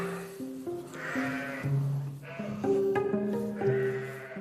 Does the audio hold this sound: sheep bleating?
yes